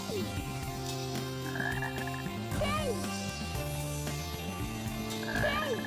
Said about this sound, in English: Frog, frog, hello.